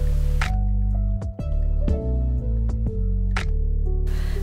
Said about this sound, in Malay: masukkan halba dan kacau sehingga sebati